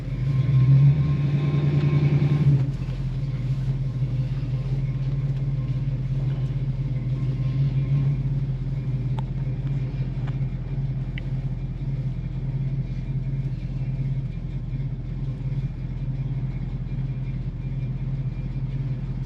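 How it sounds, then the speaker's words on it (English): 1964 1/2 Ford Mustang with an F-code V8 and a mild cam idling: a steady, deep rumbling idle heard up close and alone after a brief louder rev at the start. "Sounds like it's got a nice little cam in it. I hear the engine feels like it's got a little cam in it."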